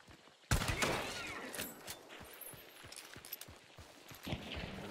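Gunfire crackles in a bayou PvP shooter, a sudden loud shot followed by scattered distant reports and rattling bursts of varying loudness.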